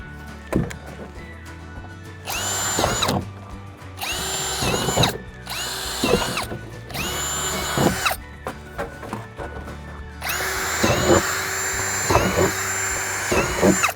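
A power drill bores holes into a plastic storage bin for compost, sounding in short, loud whirring bursts separated by brief pauses, each ending with a squealing bite through the plastic.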